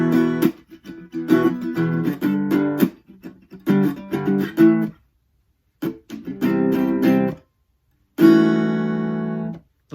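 Acoustic guitar playing the verse part of a song in a looping live arrangement, rhythmic strummed and percussive phrases broken by short pauses, close and clear with no talking.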